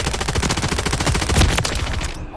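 Rapid automatic gunfire from Call of Duty Modern Warfare 3, a loud, close, continuous stream of evenly spaced shots lasting a couple of seconds and cutting off abruptly at the end.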